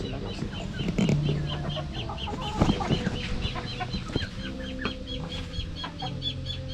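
Chickens cluck repeatedly at close range on a backyard poultry setup, with a busy layered chorus of short clucks, occasional louder squawks and some wing flapping beneath.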